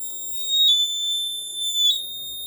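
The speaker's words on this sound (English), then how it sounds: "alcohol detected, red LED, alarm should be on" Alarm of a homemade alcohol breathalyzer with engine cut-off going off when alcohol is detected: a steady high-pitched electronic tone that holds continuously, with a couple of small bumps in level.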